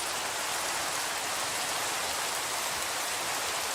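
Steady rain falls in the Minecraft video game, an even, hissing patter of drops that holds constant and fairly quiet from start to finish with no voices.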